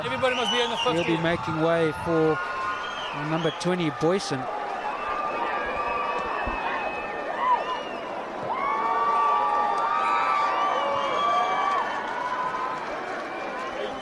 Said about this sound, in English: the noise you can hear from the crowd is the substitution of Venta